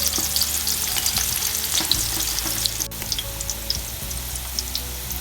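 Onions frying in a pan until brown, a steady, dense sizzle and crackle close by, with soft stirring noises and a brief sharp click partway through.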